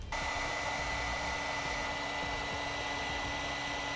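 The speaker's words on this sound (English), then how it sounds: "We'll again use our heat gun to shrink that down." A heat gun shrinking heat shrink tubing over crimped wiring during a trailer wiring harness install on a 2012 Dodge Avenger, a steady airy blowing roar that runs continuously and fairly close with no talk.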